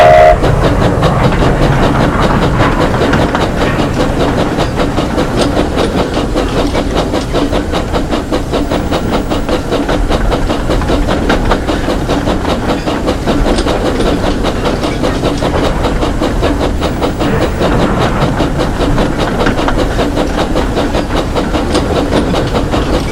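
A train rolls steadily along the tracks, a loud continuous rumble with a faint rhythmic clatter of wheels running throughout.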